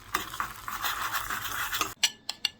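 Paprika is stirred into hot oil in a pan, heard as a close, continuous scraping swirl over a soft sizzle, ending with three sharp metallic taps of the spoon on the pan.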